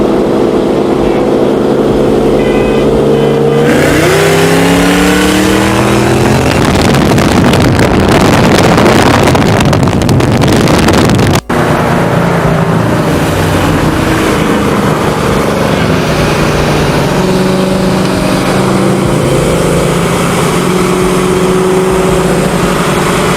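A 2012 Shelby GT500 races with a loud engine that rises and falls through gear changes, under heavy wind buffeting on the microphone, with a second pull after a brief break.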